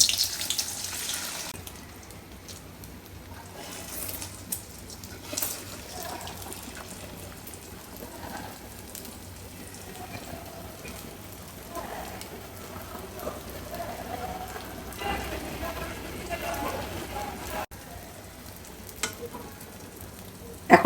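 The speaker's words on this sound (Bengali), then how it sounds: "এখানে আমি 2টা ডিম ফেটে নিয়েছি, এই ডিমটা এখন ভেজে নেব।" Two beaten eggs frying in a pan, a soft steady sizzle running throughout with faint crackles, heard close and alone.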